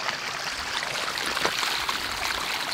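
Dirty water gushes out of a drip irrigation sand filter being backwashed, a steady, close rushing and splashing flow with no talking.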